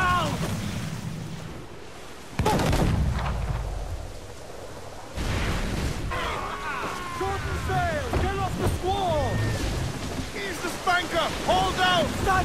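Ship cannons booming in the Assassin's Creed IV Black Flag video game, with heavy blasts landing among stormy wind and sea noise while crew voices shout orders over the din.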